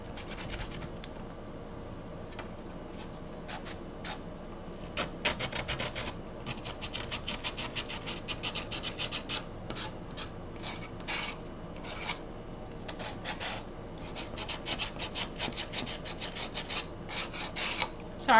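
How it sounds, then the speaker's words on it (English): Steady rasping sandpaper on a wooden Halloween cut-out, close and continuous, with a low background hum and bursts of brighter, harder strokes through the second half. "Sorry about the sanding noise."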